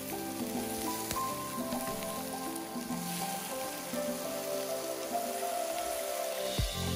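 Tomatoes and a seasoning cube are stirred in a hot pan, giving a steady close sizzle and crackle with soft scraping and squishing as they are mixed. A bump sounds at the end.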